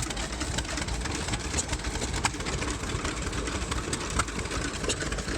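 Small vintage stationary engines running together at an engine show in Arizona, a steady, dense chugging and idling rumble with faint sharp ticks, continuous and close, no talk.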